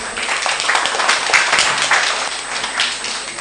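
Audience at a hackathon clapping for a presenting team, a steady, moderately loud patter of many hands throughout.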